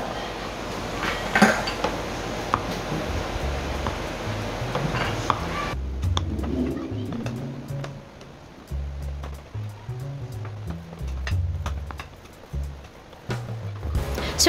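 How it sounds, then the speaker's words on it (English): Cooked rice for a sushi bake being mixed with vinegar in a bowl, with a steady wet rushing pour at first, then scraping and clinking of a utensil against the bowl, up close. "I'm just going to add our vinegar, and then we'll have to mix this properly"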